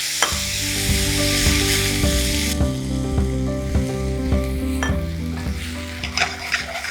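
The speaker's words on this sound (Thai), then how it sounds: "ผมก็จะใส่น้ำสะอาดลงไปเล็กน้อยนะครับ" Loud, steady sizzling of rice in a hot pan, with a sudden hiss as clean water goes in and a few clinks of utensils against metal.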